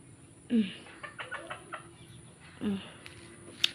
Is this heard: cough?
no